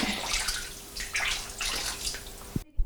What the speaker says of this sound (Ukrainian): І наливаємо 600 мл води.